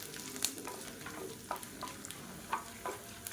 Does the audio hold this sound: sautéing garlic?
yes